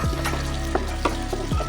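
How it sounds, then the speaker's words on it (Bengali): Chopped onion, ginger and garlic sizzle steadily in hot oil in a pan, a close, continuous frying hiss with a few stirring scrapes and no talk. "পেঁয়াজটা প্রায় ভাজা হলে"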